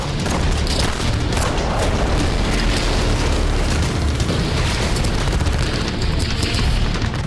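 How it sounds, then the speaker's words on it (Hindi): An explosion at a British weapons factory, shown in news footage, produces a loud, sustained roaring rumble with a heavy low boom that holds steady for several seconds without any talking. "यही वजह है कि ब्रिटेन के हथियार फैक्ट्री में धमाके को पुतिन का सीक्रेट ऑपरेशन भी माना जा रहा है।"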